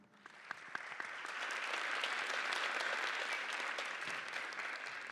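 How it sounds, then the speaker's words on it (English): An audience at a youth sustainability conference breaks into sustained applause that builds within the first second and holds steady and full for several seconds, with no speech over it. "Can we please get a big round of applause"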